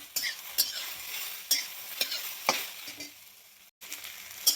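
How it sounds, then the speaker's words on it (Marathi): Okra stir-fries in oil on a high gas flame, with a steady soft sizzle under regular scraping strokes of a spatula in the pan, close and fairly quiet. "आता 5 मिनिटं ही भेंडी अशी फुल गॅस सोडून भाजून घ्यायची."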